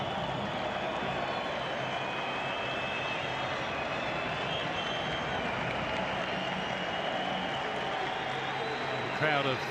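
Stadium crowd of about 14,500 at a Palestine versus Australia World Cup qualifying football match, a dense steady roar and murmur filling the ground throughout, with a commentator's voice over it.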